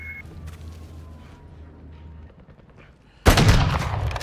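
Gunfire in the video game Call of Duty DMZ: a quiet stretch of distant pops and ambient noise, then a sudden loud close burst of rapid shots erupting near the end.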